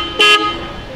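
A single short car horn honk from a Renault Triber, loud and close, lasting a fraction of a second before fading into quiet background.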